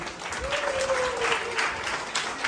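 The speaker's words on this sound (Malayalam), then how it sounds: "നല്ലൊരു കയ്യടി കൊടുക്കുക എല്ലാവരും" Audience applause at a children's day celebration in Salalah, a steady round of clapping from a crowd indoors, with a faint tone and some speech mixed underneath.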